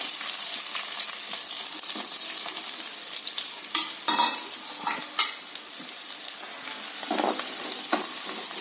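Thinly sliced onions fry with biryani masala in hot oil for chicken dum biryani, a close, steady hiss broken by scraping stirs of a spoon against the pan.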